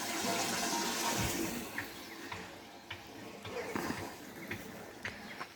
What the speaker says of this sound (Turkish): Damlamalar akmaya başlamış.